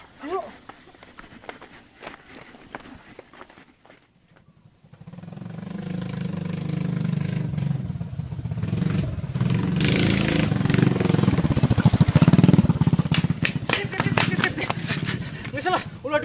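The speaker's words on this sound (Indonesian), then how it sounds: "jadi si Benjo mah naik motor." A motorcycle engine rumbles and revs steadily, growing louder after a brief quiet spell, with voices talking over it.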